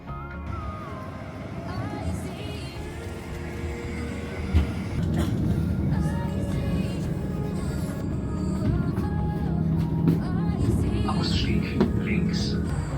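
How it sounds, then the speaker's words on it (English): A tram in Linz, Austria arrives and rolls along with a continuous low rumble, squealing wheel and brake tones and occasional clunks, loud and close throughout. "Here's the tram."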